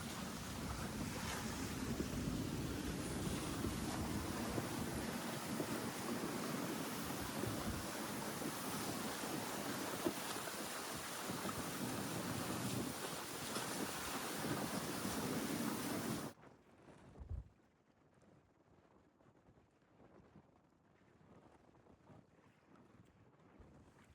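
A strong sirocco of 30 knots, gusting to 35, roars across the microphone as a sailboat beats close-hauled off Sardinia, with waves hissing against the hull, until the wind noise drops away abruptly near the end.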